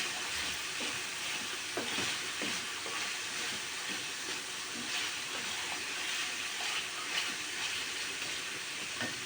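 Beef liver sizzles while being stir-fried in a pan, making a steady close hiss with faint scattered crackles throughout.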